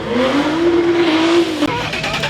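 A Chrysler 300 with a swapped-in Hellcat engine roars loudly and steadily at high revs close by, its pitch slowly climbing and then falling before a brief cut and a rougher idle.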